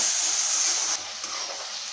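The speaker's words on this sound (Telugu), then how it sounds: "ఇలా పుదీనా పేస్ట్ని వేసుకున్నాక పచ్చి వాసన పోయే వరకు వేగించుకోవాలండి ఆయిల్లో" Mint paste frying in hot oil in a pan while making pudina rice, giving a close, continuous sizzling hiss that softens a little partway through, with no talking.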